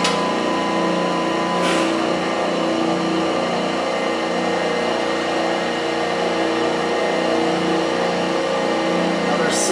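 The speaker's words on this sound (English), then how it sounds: "This is going to engage the table feed for the X-axis." An Abrasive Machine Co. Hydrabrasive 1224 surface grinder (12 by 24 inch) runs with its X-axis table feed engaged, giving a steady, even mechanical hum with a faint whine that holds unchanged throughout.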